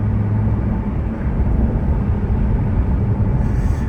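A straight-piped Porsche 911 exhaust drones as a steady low rumble heard from inside while driving, a continuous loud engine tone with no talk.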